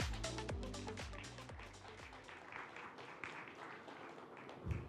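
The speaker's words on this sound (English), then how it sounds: "Please give him a round of applause." Faint applause rises from the audience at a tech forum at the Taiwan Innovation Technology Expo, a few low thumps at first, then a soft, scattered patter of clapping that carries on at a distance.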